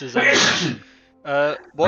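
A single sneeze erupts up close among players at a tabletop fantasy role-playing game, followed by a short spoken question from someone at the table.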